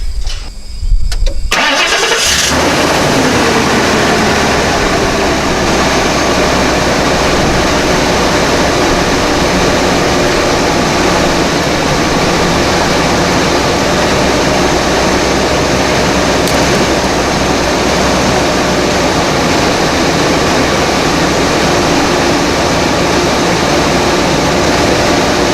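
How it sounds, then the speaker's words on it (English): Engine of a 1998 Ford Econoline van cranks and catches, then idles steadily and loudly up close for over twenty seconds with no talking. "I'm going to start the van and let it run for a few minutes."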